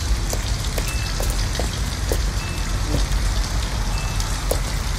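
Steady rain falls outside an abandoned house in the video game Detroit: Become Human, a continuous soft patter and hiss with scattered droplet taps and no break throughout.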